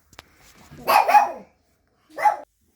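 Dogs bark outdoors near a live steam engine, first a burst of several overlapping barks, then after a pause one more short bark, loud and close with no talk.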